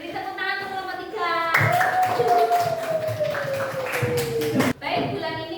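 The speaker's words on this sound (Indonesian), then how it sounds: "Beri tepuk tangan untuk kelompok 3" A classroom of students clapping for a group after its story presentation, a steady burst of claps lasting a few seconds under a sustained tone and some talk, ending abruptly.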